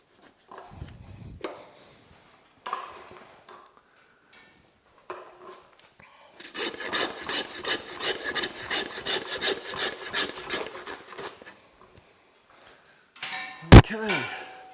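A butcher cutting and boning out a beef rump, with a sustained rhythmic rubbing, sawing scrape in the middle, scattered handling knocks around it and a sharp clunk near the end; a voice is briefly heard.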